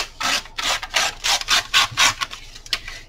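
Paper strips being torn off a paper bag while a rustic file folder is made: a run of repeated rasping rips, each a short bright burst with brief pauses between, close and fairly loud, and no talking.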